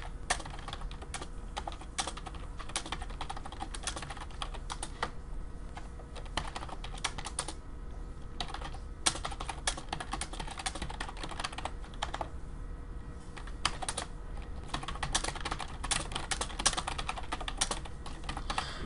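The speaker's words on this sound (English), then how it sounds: "My typing might be very loud" Fast, continuous typing on a computer keyboard, close and crisp, with rapid irregular key clicks running throughout and no talking.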